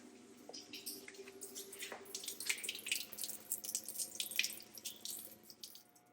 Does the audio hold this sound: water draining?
yes